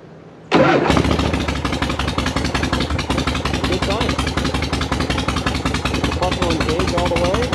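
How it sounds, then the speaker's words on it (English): A 1979 Harley-Davidson Shovelhead FLH motorcycle cranks and fires up after a brief pause, then settles into a loud, lumpy, pulsing idle close by with a few throttle blips. "Let's see if this thing will start and we'll see if we can take her down the road."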